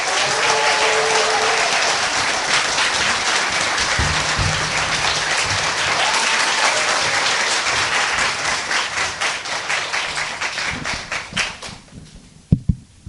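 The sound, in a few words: audience applause welcoming guest professor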